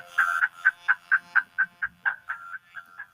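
A Teenage Engineering OP-Z synthesizer plays a band's theme song as a quick run of about a dozen short, nasal, croaking notes near one pitch, fairly quiet and alone, fading slightly toward the end.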